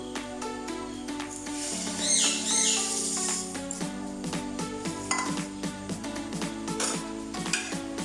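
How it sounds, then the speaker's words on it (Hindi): A spoon stirs sugar into milk in a pot, with repeated light clinks and scraping under steady background music. "चम्मच से मिक्स करनी।"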